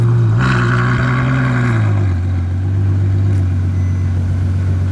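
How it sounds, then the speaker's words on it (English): A Ferrari arriving at an outdoor Cars and Coffee meet, its engine rumbling low and loud, a brief rev easing into a steady throaty idle nearby. "there's another Ferrari showing up right there in the distance"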